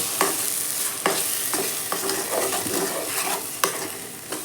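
Okra frying in oil for a ladies finger thogayal is stirred in a pan, with a steady sizzle broken by repeated scraping strokes of the spoon against the pan.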